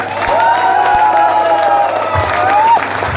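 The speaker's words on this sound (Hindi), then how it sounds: "एक बार जबरदस्त ताली बजाओ।" A crowd at a business seminar claps and cheers loudly and steadily for about three seconds, with whoops and shouts rising over the dense applause.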